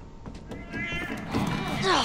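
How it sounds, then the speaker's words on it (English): A cat meows in The Last of Us: Left Behind video game, a faint rising call emerging under a person talking over game sounds. "That cat is everywhere!"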